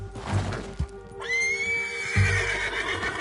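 A horse whinnies loudly in a long rising-falling call in Red Dead Redemption 2, with a few heavy hoof thuds and clip-clop steps before and after, close and clear.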